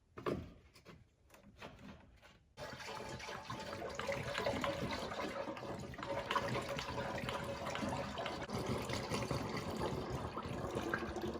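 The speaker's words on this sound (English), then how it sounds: "all we gotta do now is add some coolant, because there's no coolant in the system" Coolant poured into the empty cooling system of an LMM Duramax diesel engine, a steady liquid splashing and gurgling that starts after a few clunks and continues close and fairly loud throughout.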